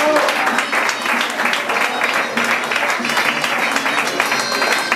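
A crowd at a Valencia Falla Tres Forques-Cuenca 2020 presentation event applauds the fallera mayor, with steady, dense clapping throughout and voices faintly mixed in.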